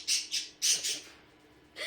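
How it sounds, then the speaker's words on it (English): Two loud pet birds squawking near the microphone in a home in Japan, four harsh bursts in quick succession, then a pause and another squawk starting at the end. "I have two very loud and very opinionated birds in the background."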